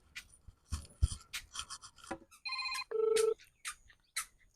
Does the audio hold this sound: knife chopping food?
no